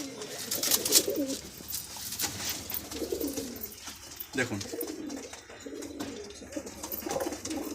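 Pigeons coo in low, rolling bursts repeated through the stretch, close by. Among them is a female pigeon of an old Madrasi bloodline breeding pair in Kolkata, with faint chirps and background noise around them.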